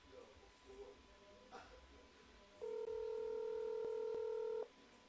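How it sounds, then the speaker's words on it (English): A telephone on a livestream gives a steady electronic ringing tone lasting about two seconds, close and clear, after quiet background movement with faint talk. "Phone is ringing."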